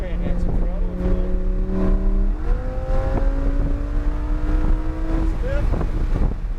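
Race car engine rising in pitch under added throttle on a circuit, a loud droning whine that climbs, shifts and climbs again, with wind buffeting and a voice coaching over it.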